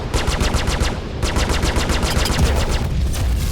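Rapid bursts of spaceship weapon fire in Star Citizen, two loud salvos of fast repeated shots with a short break between them.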